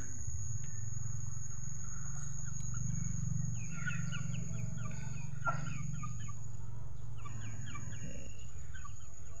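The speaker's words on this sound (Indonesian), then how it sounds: "ini ayam pada ngikutin kita semua nih" Several chickens cluck and chatter in short bursts over a steady low hum and faint insect buzzing, fairly close by.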